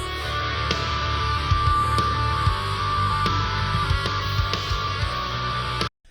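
Delta output of a dynamic EQ isolating only its gain changes on a remastered song, with bands swelling and ducking like a pumping compressor in a steady, dense rhythmic wash that cuts off abruptly near the end.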